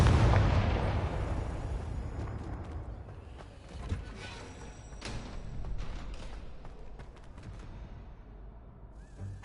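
A Confringo blasting spell in the video game Hogwarts Legacy bursts loudly and close at the start, its booming roar decaying over several seconds into a rumbling tail with a few smaller crackles.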